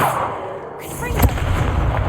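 A Confringo fire spell in Hogwarts Legacy bursts in a single sharp explosive crack amid steady game ambience, followed by a crackling tail.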